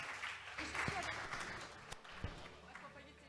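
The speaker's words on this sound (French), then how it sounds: "Excellent, on vous applaudit." Applause from an audience at a retail customer-satisfaction awards ceremony, a broad sustained patter of many hands with a few sharper claps standing out, mid-distance and moderately loud, with voices mixed in.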